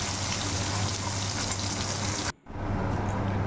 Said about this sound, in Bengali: মাছগুলো একটু বেশ কড়া কড়া করে ভেজে নেব